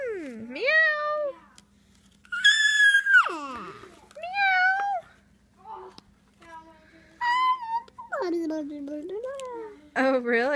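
A small child imitates a cat's meow in a high, rising voice, with several meows spread across the stretch, mixed with an adult's voice talking and prompting.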